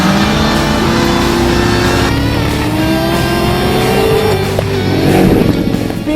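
A Chevrolet Corvette ZR1 with a supercharged 6.2-liter V8 accelerates hard, a loud, close engine roar rising in pitch with a gear change midway, alone without voices.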